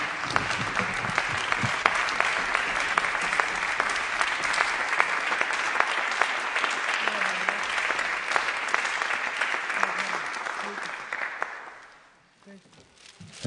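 An audience applauding a jazz musician at the Buma Boy Edgar Award 2020 ceremony, with dense steady clapping that fills the room for about eleven seconds and then dies away, with faint talk beneath.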